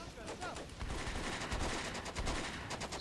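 Gunfire in a Combat Mission Beyond Overlord battle between French and German forces, rapid machine gun bursts and scattered shots crackling at moderate distance, fairly quiet, with a voice faintly present.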